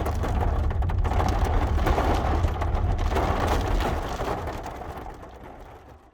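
Heavy rain roars steadily on a surface on a farm in Portugal, then gradually fades toward the end, with no voices.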